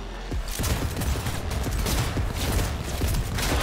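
Rapid bursts of gunfire in the video game Cyberpunk 2077, dense and continuous shots layered over one another at a loud, even level, like a sustained firefight.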